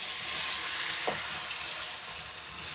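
Chicken and chopped tomatoes sizzle steadily in a pan over low heat, a constant close frying hiss with one brief stir or scrape partway through.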